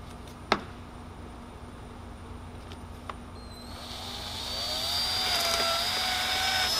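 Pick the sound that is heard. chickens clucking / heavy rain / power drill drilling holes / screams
power drill drilling holes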